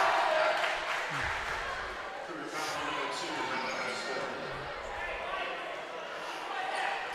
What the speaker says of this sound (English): Great crowd on hand here tonight at Crestview